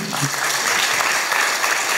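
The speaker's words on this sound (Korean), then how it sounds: "박수 주세요" Audience applause at a public lecture, a short and loud burst of massed clapping, with a voice faintly heard under it at the start.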